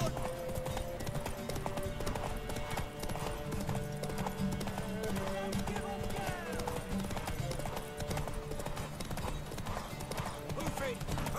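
Horse hooves gallop in a steady clip-clop rhythm in The Witcher 3 game, with occasional whinnies over a dense bed of music and game sound while voices talk throughout.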